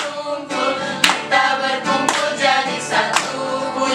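Hands clap along to a children's Sunday school song, sharp claps landing roughly once a second over the sung melody and accompaniment.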